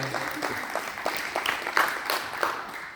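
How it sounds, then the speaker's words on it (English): Scattered hand clapping from a crowd, uneven and moderately loud, continuing steadily without voices over it. "everybody clap for yourself"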